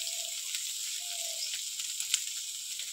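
Broccoli and egg fry in a pan with a steady, bright sizzle that carries throughout, broken by a brief pop near the end and faint tonal beeps early on.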